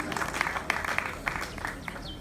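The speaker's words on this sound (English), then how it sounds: "let's give him a round of applause" Crowd applause at a fire station's one-year anniversary celebration, scattered hands clapping with a few sharper claps standing out, moderately distant, with faint voices mixed in.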